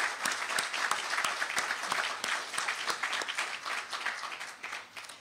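Audience applause for teaching award finalists at a university ceremony, a moderate crowd clapping with distinct individual claps that gradually taper off.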